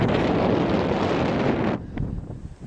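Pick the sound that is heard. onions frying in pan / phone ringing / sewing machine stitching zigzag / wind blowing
wind blowing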